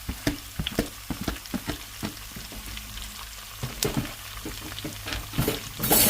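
Onion, green chilli, garlic and curry leaves sautéing in a hot pan for a turkey leg dish, a steady close sizzle broken by repeated clatters of stirring and scraping, with a louder rush near the end.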